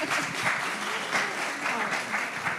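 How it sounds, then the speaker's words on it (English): Audience applause at a talk on breaking the glass ceiling, a dense, steady clapping from a room of people that swells and fades slightly over a couple of seconds. "let's clap for that"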